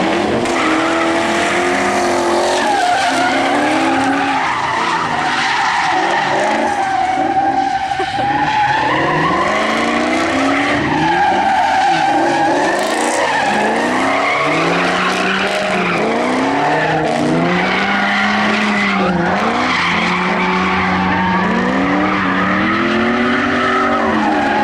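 A Can-Am side-by-side drifts with a revving engine and long, loud tire squeals that rise and fall in repeated sweeps over about twenty-five seconds of continuous action, with no speech.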